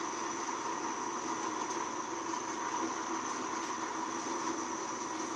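A long train grinds up a steep grade in the Trainz simulator T:ANE, a steady rumbling drone with a persistent high whine, loud and unbroken throughout.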